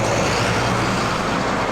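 Steady, loud roar of coach buses passing close by in the Ogwen Valley, a continuous low rumble of engines and tyres with no break.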